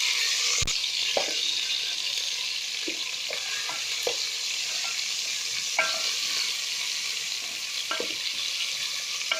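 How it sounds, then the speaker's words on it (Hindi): Chicken pieces frying with browned garlic in a pan for chicken fried rice, a steady close sizzle with occasional scrapes and clinks of a spoon stirring. "अब हम इसमें चिकन डाल देंगे और इसे वाइट होने तक पका लेंगे।"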